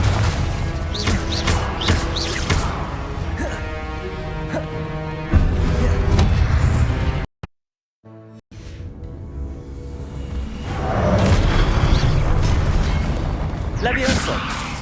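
Spell blasts go off in Hogwarts Legacy gameplay as Confringo is cast, booming explosive bursts over music and a shouted voice, with a short near-silent gap midway before the loud action resumes.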